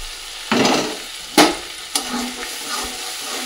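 Tomato paste hits a hot pan with cumin paste and chilli powder, sizzling loudly in bursts as it is added and stirred, with sharp scraping clatters between the frying hiss.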